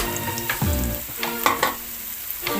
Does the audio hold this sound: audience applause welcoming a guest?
no